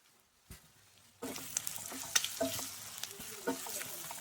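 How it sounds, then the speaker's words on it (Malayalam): Chopped egg whites and curry leaves sizzle softly in a pan as they are stirred, with light scraping clicks; near silence precedes the sizzle, which then holds steady and fairly quiet. "എല്ലാം കൂടി ഒന്ന് നന്നായി ഇളക്കി കൊടുക്കുക."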